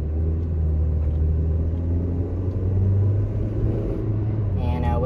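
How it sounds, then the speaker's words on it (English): A car driving along a road, heard from inside as a steady, loud low rumble of engine and tyres that holds level the whole time. "Driving home on the first day."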